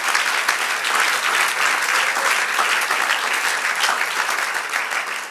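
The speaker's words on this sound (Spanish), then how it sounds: "Dale el aplauso" Church congregation applauding during a Spanish-language service, dense continuous clapping at close range that holds steady throughout and fades slightly at the end.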